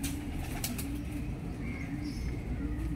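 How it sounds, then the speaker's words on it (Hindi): Domestic pigeons of an old breeding line: wings flap in quick bursts near the start, and low repeated cooing rolls beneath them, all close and steady with no speech. "ये पुराने मियाँ साहब वाले कबूतर हैं"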